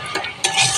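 A spoon stirs red amaranth greens and potato frying in a pan, with scraping clinks against the metal and a soft sizzle in a brief burst.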